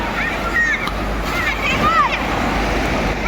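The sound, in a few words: wave pool waves at aquapark, like the sea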